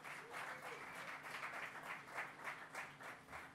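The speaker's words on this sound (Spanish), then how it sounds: "Un aplauso para él, por favor." A small audience at a guitar competition final in Sala Indara, Pamplona, applauds steadily for about three and a half seconds. The clapping is soft and distant, with a faint voice low in the background.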